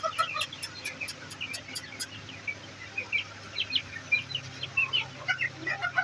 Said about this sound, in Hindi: मुर्गियों का खाने का टाइम हो चुका है और हम भी पहुंच चुके हैं मुर्गियों के पास।